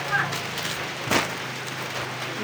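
Steady rain falls outdoors, a broad continuous hiss with a few louder spatters and drops throughout, fairly close and moderately loud, with no talking.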